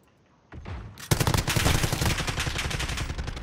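Rapid automatic gunfire in a shooter video game, a few single shots followed by a long, dense burst of loud cracks that stays intense to the end.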